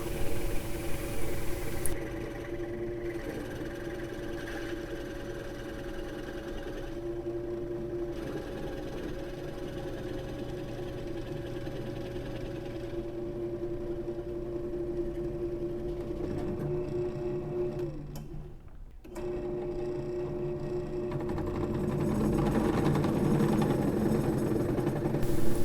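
A power drill with a 1.25-inch bit bores through material for a backyard DIY boat build, giving a steady motor whine that runs for the whole stretch, briefly stops near the end, then picks up louder again.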